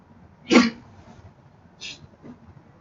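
A single sharp sneeze bursts out near the start, followed by a softer, shorter breathy sound a moment later, at close range in an otherwise quiet room.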